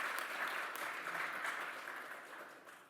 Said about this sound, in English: A round of applause for Bob Davis.